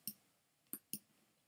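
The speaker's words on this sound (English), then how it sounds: "Sorry, I'm just clicking" Three sharp computer mouse clicks during fast clicking through a Club Penguin game, a single click followed by a quick pair, crisp and close with quiet gaps between.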